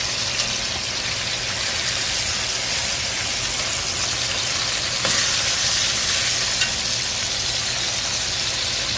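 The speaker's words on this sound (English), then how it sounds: "So I've got them in the pan with 1/4 cup of olive oil and salt and pepper," Beef short ribs browning in a pan with olive oil, salt and pepper, giving a steady, loud, close sizzle and crackle of frying that runs unbroken throughout.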